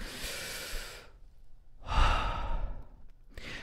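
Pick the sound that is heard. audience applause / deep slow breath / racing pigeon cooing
deep slow breath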